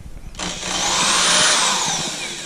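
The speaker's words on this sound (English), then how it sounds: "this is my setup to buff them, clean them up. So I just got my Porter cable drill in here" Porter Cable drill spinning a buffing wheel against old engine valves from an LS 5.3 cylinder head, starting abruptly into a loud, sustained close-up whir with a rising and falling grinding hiss.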